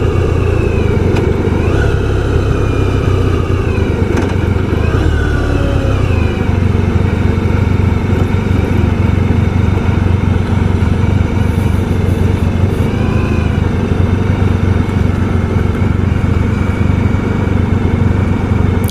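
A 1994 Honda ST1100 motorcycle pulling into a gas station off the Long Island Expressway, loud steady engine drone with wind rush and gentle shifts in pitch, close throughout.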